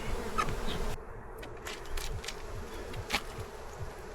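Honey bees buzz close by, a steady droning hum with individual insects whining past now and then, and no voices.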